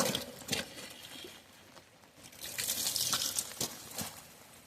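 Water is scooped and sloshed while panning for gold, giving splashy, gurgling patters and irregular drips, moderately close, in a few busier bursts.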